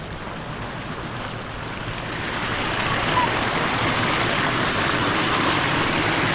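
Fresh river floodwater rushes past with a steady, broad roar that swells louder after a couple of seconds and then holds, with no distinct voices.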